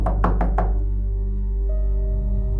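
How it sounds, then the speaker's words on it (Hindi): Knocking on a wooden door in a horror film scene: four quick, sharp raps close up, then a low drone lingers underneath. "वह दरवाजे के पास गया और खटखटाया।"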